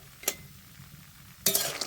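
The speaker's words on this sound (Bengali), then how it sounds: "বড়িগুলো প্রায় ভাজা ভাজা হয়ে গেছে।" Lentil dumplings (bori) frying in oil for an eggplant bori curry, stirred in the pan: a quiet sizzle carries two short, bright scraping and clinking stirs, one early and a longer one near the end.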